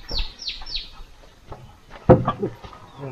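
Birds chirp near a chicken coop: three quick, bright descending tweets come first, then fainter scattered calls, with a sharp knock partway through.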